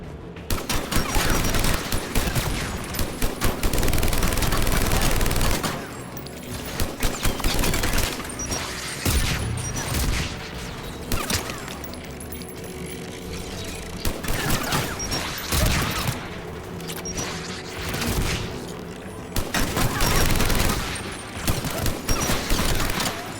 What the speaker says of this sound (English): AA guns, dead ahead.